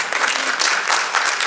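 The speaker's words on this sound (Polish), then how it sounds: "Ale brawa dla pani Małgorzaty, która prowadzi dziewczyny." An audience claps at a concert of a vocal workshop group, a dense, steady burst of applause close by, with no speech over it.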